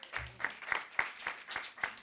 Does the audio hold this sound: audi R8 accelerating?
no